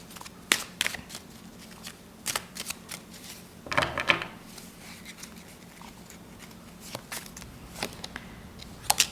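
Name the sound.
shuffling tarot cards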